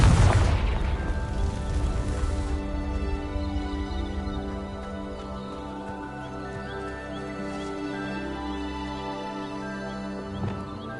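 A fire spell goes off in Hogwarts Legacy and sets dry vines alight: a loud, deep explosive boom at the start, then a long rumbling, crackling decay that fades over several seconds.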